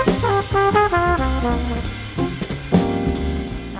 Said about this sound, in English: It's essentially a cheeky little shuffle played at the end of the bar with both hands in unison